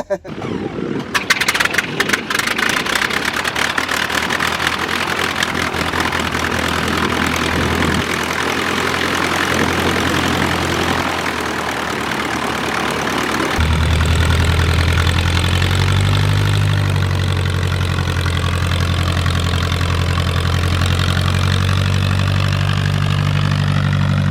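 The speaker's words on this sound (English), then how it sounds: "Engine, and we are getting ready for takeoff." A steady low engine drone runs throughout, rising to a heavier, louder rumble about halfway through, like a propeller aircraft powering up.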